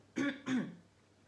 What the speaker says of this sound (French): je me racle la gorge